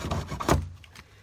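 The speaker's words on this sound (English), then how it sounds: "But we turn it over, take our hacksaw," A hacksaw cuts off the protruding end of a waterproofing product in a brief burst of close, gritty rasping strokes.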